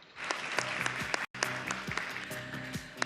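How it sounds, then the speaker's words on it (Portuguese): An audience at an energy-sector investment forum panel applauds the panelists with dense, steady clapping that breaks off for a moment and then resumes at full strength. "gostaria que os senhores aplaudissem esses panelistas maravilhosos."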